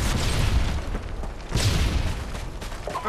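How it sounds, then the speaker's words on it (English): A Predator missile strike in Modern Warfare 2 on the Afghan map, a heavy booming explosion rolling through the first half and followed by a second deep blast around the midpoint, loud with dense low rumble and debris wash. "Friendly Predator missile inbound."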